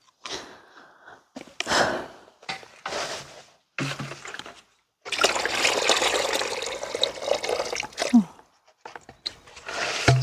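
Water splashing and trickling onto a tree in an outdoor garden, in short bursts and then a longer steady pour, fairly close.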